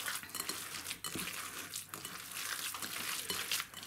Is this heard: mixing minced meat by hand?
yes